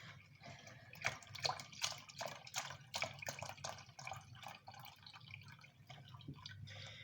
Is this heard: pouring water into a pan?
yes